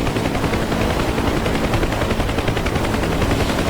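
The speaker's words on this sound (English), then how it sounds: "so that's what the gunners are shooting at" Sustained machine-gun fire from gunners in the DCS combat flight simulator, shooting at a big lake in a jungle setting, forms a dense, steady rattle that runs unbroken and loud throughout, with no talk.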